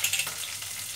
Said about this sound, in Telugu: ఉల్లిపాయ ముక్కలు, పచ్చిమిరపకాయ ముక్కలు వేసుకుందామండి